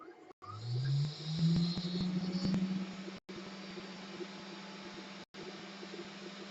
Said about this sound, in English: So what I'll do first is I'll fire up the spindle.